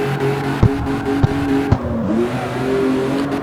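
A car engine in the racing game CarX Street revs in a steady, loud drone, with a few sharp clicks as it climbs and settles, and no voices.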